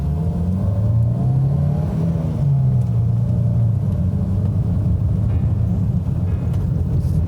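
A Toyota Corolla AE112 accelerates on a test drive, its engine droning and rising in pitch through the revs, then settling to a lower rumble, steady and close from inside the cabin with no speech.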